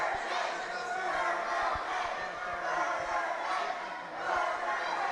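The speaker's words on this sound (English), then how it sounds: "Listen to this crowd." Wrestling crowd at an ECPW show jeering a wrestler, a dense, loud roar of voices and shouts that swells and dips steadily throughout, with booming low thumps from the arena underneath.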